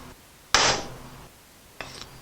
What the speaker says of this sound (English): So we're going to do a center punch.